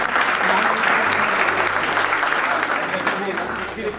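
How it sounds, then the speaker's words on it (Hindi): Youth audience at an Uday Sanstha event on the Indian constitution claps in a sustained round of applause, full at first and tapering slightly at the end, with a low hum underneath. "एक बार तालियों के साथ।"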